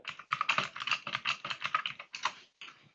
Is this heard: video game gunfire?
no